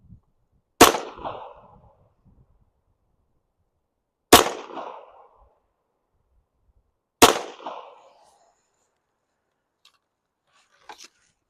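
Three single gunshots from .22 LR automatic pistols crack out a few seconds apart, each loud and sharp with a short ringing decay, followed by silence and a couple of faint clicks.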